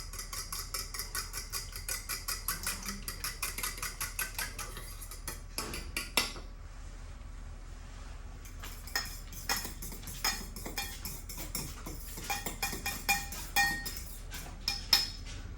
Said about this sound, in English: And now just we're gonna mix the wet ingredients with the dry ingredients